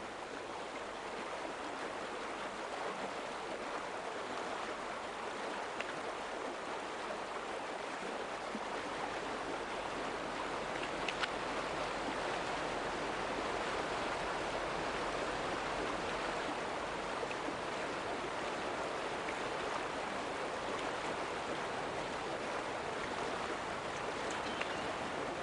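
River where salmon spawn, steady broadband rush of flowing water that continues unbroken and fairly loud throughout, with no voices.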